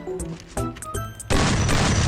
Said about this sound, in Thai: เล่นระเบิดใส่เราอ่ะ